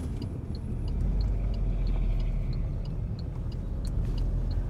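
A car drives along a road and turns into another one, its engine and tyre rumble a steady, fairly loud low drone throughout with a faint high whine above, and no one speaks.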